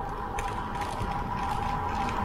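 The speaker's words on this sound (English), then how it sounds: "as you can hear, it's pretty rough. There's gravel all over the place." A road bike rattles continuously over a rough gravel-strewn road, with dense mechanical clattering and ticking close to the bike and a steady rumble underneath, with no talking.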